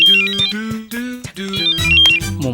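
A phone ringtone plays, a melodic electronic tune of bright repeating notes over a low tonal backing, loud and close, with no voices for a couple of seconds.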